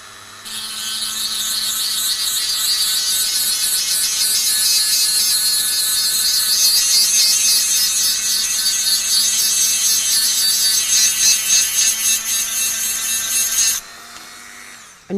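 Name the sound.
rotary tool grinding calcium off a shell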